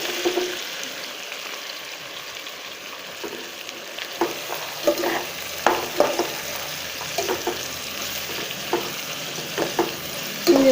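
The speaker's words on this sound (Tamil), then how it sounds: "இப்போ நம்ம ஆனியன் சேர்த்துடலாம்." Onions, including crushed small sambar onions, fry in a pan with a steady low sizzle while a spoon stirs in irregular scraping knocks for a coconut milk chicken biryani; no voices, moderate and close.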